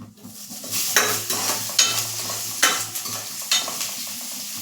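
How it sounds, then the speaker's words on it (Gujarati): Curry leaves and a green chili sizzle in hot oil for a potato and peanut khichdi, a steady crackling fry with rhythmic stirring scrapes every second or so, close and fairly loud with no talk. "હવે હું એમાં ત્રણથી ચાર મીઠા લીમડાના પાન એડ કરીશ અને એક નંગ છે તે લીલું મરચું છે તે એડ કરીશ"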